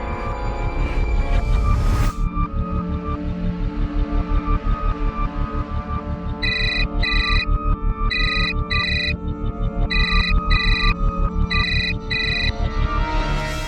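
A phone rings with a repeating electronic ringtone, a loud steady pulsing melody with bright beeping bursts layered over it, continuing for many seconds without talk.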